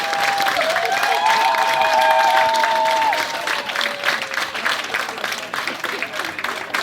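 An audience applauds at a hairdressing show in Valgamaa, a loud burst of clapping and cheering that tapers into lighter, scattered claps, while a tonal sound rises and falls over the first half.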